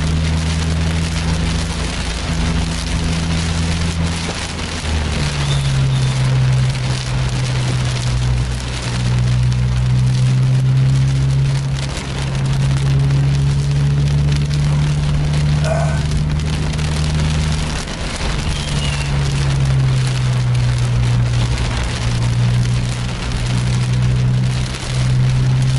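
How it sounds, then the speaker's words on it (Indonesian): Heavy rain drums steadily on a sleeper bus as it travels, a dense, loud hiss with a low engine hum droning underneath and shifting in pitch throughout. "Cuacanya keras ini hujannya."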